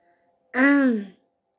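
One short, close throat-clear, a single voiced 'ahem' lasting under a second, in otherwise quiet surroundings.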